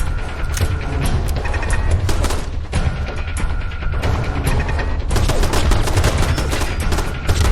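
Sustained automatic turret gunfire in Fallout 4, dense rapid bursts of shots and booms filling the whole stretch loudly with no talking.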